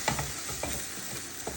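A slice of French toast fries in butter and is flipped in the pan, a soft steady sizzle with several light scraping clicks of a spatula, close and quiet, without talk.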